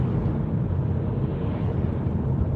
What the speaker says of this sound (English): Very windy as well tonight,